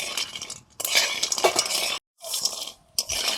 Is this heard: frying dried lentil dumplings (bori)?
yes